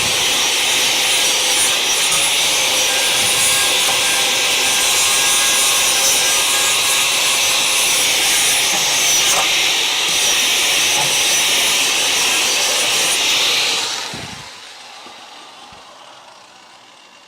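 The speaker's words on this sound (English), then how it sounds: "Just maybe get at it with a little bit more with the flapper." A flap disc on an angle grinder works weld seams along a repaired truck frame rail, a loud, steady abrasive grinding roar that runs without a break for about fourteen seconds, then winds down and stops, leaving quiet.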